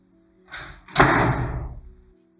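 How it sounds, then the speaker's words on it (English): An office door swings shut with a soft whoosh followed by a firm, close slam that rings out and fades over about a second. "Close the door on your way out."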